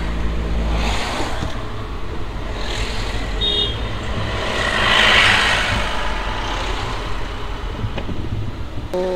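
Heavy weekend road traffic in India, with vehicles crawling in first gear, giving a continuous loud engine rumble and passing car noise, with a short horn near the middle.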